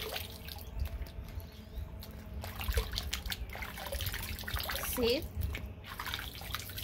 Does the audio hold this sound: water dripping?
yes